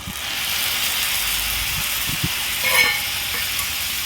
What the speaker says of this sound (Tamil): தக்காளியை அந்த வெங்காயம் கூட நல்லா வதக்கிக்கலாம்